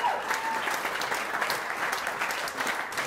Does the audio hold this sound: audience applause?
yes